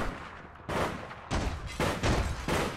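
Gunfire in APB Reloaded, coming as four loud, distinct bursts of shots separated by short quieter pauses, close and sharp with a rumbling tail after each burst.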